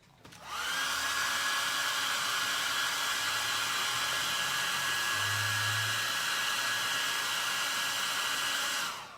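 A hair dryer blows steadily and loudly at close range, drying a painted plaster figure of a boy; a constant whooshing hum with a faint motor whine runs unbroken for the whole stretch, with no talking.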